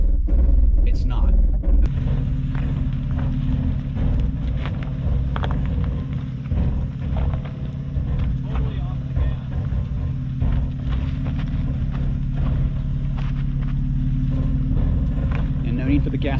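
A 2020 Toyota 4Runner in crawl control mode, giving off a low, continuous grinding rumble with irregular mechanical clunks and rattles as it creeps along, a steady drone throughout.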